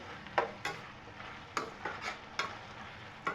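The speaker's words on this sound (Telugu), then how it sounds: "ఇప్పుడు మొత్తం కూడా కలిపేసుకోండి." Leafy greens curry stirred in a pan, with repeated spatula scrapes and taps at an uneven rhythm over a low sizzle, close and fairly quiet, with no speech.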